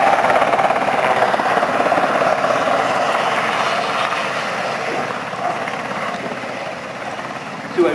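A Westland Sea King HAR.3A helicopter flies at an air show, its rotor chop and engine whine loud and steady before slowly fading a little, with an announcer talking over it.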